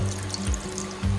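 Plain water is poured into a cooking pot with crushed ginger and whole black peppercorns, a short close burbling splash with a few gurgling surges.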